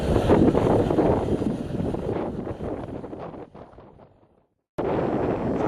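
Wind in Arctic Greenland mountains buffets the microphone in a heavy, low rumbling roar that gradually fades, cuts out briefly, then returns at full strength.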